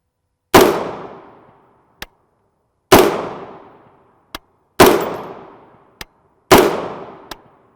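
A rifle fires 5.56x45mm M193 55-grain FMJ rounds outdoors in daylight, four sharp, loud single shots spaced a couple of seconds apart, each with a short decaying echo and followed by a faint click.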